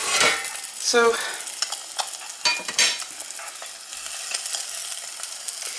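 A sunny side up egg fries in a pan, giving a light crackling sizzle along with scraping clatters from a utensil. Short bursts of sound stand out over a quiet background, and a voice is heard briefly.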